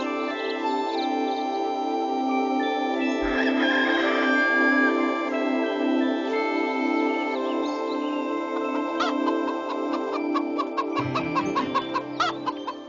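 A hen clucks and calls insistently after laying an egg, a loud near cackle that runs steadily with some rising calls, mixed with strong tonal music throughout and faster rhythmic accents toward the end.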